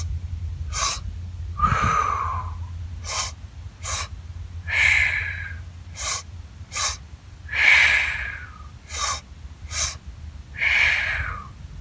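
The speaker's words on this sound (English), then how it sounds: "you take a quick but deep breath into the belly, through the mouth, and then one into the chest, and then exhale" Double helix breathing: a quick deep inhale through the mouth into the belly, then a second into the chest, then an exhale, repeated as sharp close breath bursts in a steady rhythm with no talking.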